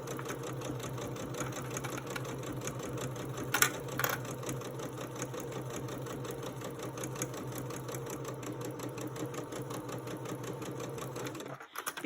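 A sewing machine runs steadily through a long stretch of rapid, even stitching on quilt triangle points, close and fairly quiet, with a couple of small clicks near the middle before it stops at the end.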